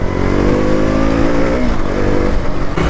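A KTM Duke 200 BS4 motorcycle engine on the move, a loud, steady, close drone with a slight rising pitch, heavy wind buffeting underneath.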